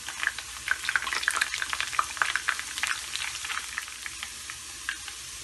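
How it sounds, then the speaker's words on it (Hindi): Cumin seeds, curry leaves and garlic frying in hot oil for khatti daal, giving a steady close sizzle with scattered crackles and pops and light stirring scrapes, no voices. "1 टीस्पून जीरे का है, थोड़े से कड़ी लीव्स हैं, तो ये डालेंगे हम। लहसुन डाल देंगे।"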